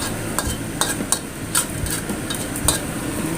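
Pork and radish stir-fry being stirred in a pan, a spatula scraping and clinking in quick irregular strokes over a steady sizzle, close up.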